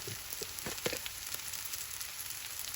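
Chopped onions sizzle and fry in a pan for a curry, a steady broadband hiss with scattered crackles and pops, close and moderately loud, with no talking.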